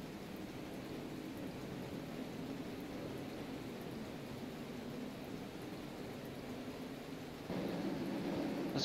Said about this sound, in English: The rain is a bit saturated.